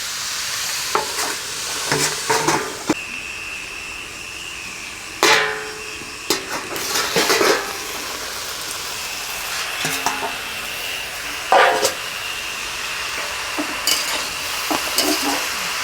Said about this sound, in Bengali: ঢাকা দিচ্ছি, বাঁধাকপিটা সিজে যাবে।